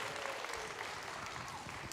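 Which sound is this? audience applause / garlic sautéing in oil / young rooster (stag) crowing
audience applause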